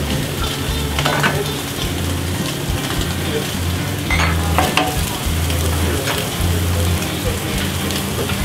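Prawns frying in unsalted butter in a hot pan, a loud, steady dense sizzle like rain throughout, with occasional stirring clatter and low background hum.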